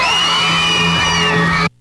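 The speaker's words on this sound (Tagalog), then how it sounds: "Tumagungdong ang malakas na hiyawan sa City Plaza" A crowd at a city plaza pageant yells and whoops loudly as the candidates are introduced, a sustained, close chorus of high cheering voices that cuts off abruptly near the end.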